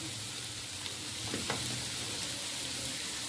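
Chopped okra (bhindi) frying in a pan on medium-low flame, a continuous close sizzle with a few soft stirring scrapes, fairly quiet and unbroken.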